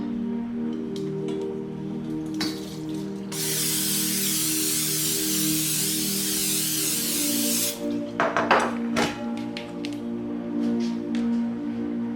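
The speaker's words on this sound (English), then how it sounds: "I'm going to spray my pan with cooking oil." Cooking oil sprays from a can onto a pan in a kitchen, one steady loud hiss lasting several seconds, with a low hum and a few clicks and clatters around it.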